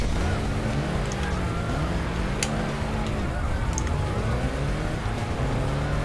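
A rally car in the game Sega Rally on PSP, fitted with a Cosworth engine and automatic transmission, drones steadily at the race start with rising and falling engine pitch. It stays loud and continuous throughout.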